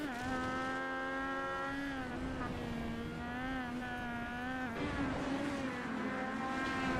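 Cross car race cars roar from an onboard camera, a loud, continuous engine whine rising and falling in pitch as the driver works through the gears, close and dominant throughout.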